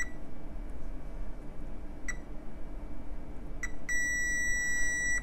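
Digital multimeter in diode-check mode probing a shorted transistor in an Accuphase P-300 amplifier, giving short isolated beeps and then a steady continuous tone over a quiet background.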